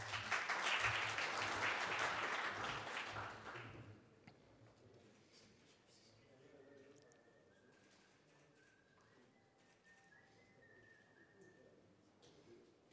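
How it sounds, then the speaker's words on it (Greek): Audience applause at an agribusiness conference, a dense clapping burst for about four seconds that then drops away to a quiet room with faint murmuring. "Ένα χειροκρότημα."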